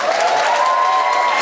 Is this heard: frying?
no